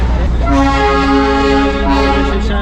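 Horn of the Darjeeling toy train on the Darjeeling to Ghum line, one long loud steady toot held for about two seconds, heard close over constant engine rumble.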